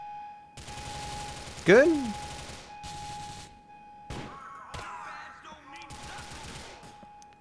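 Pistol gunfire in Grand Theft Auto IV: The Lost and Damned, a series of broad, sharp game shots spread across the clip, with a voice and a rising whistle-like tone mixed in.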